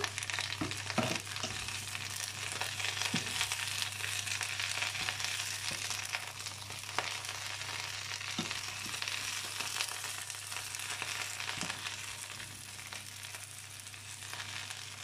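Chinese cabbage fries in a pan with a continuous, even sizzle and occasional spatula scrapes and taps as it is turned now and then, close by and with no talking.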